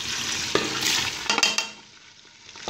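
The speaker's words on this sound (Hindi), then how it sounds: "मैंने 3 टेबलस्पून ऑयल गरम कर लिया है। इसमें मैं प्याज डाल दूँगी" Onions dropped into three tablespoons of hot oil for an arvi chicken dish crackle and sizzle, with a few sharp clatters and stirring scrapes before the frying settles to a quieter hiss.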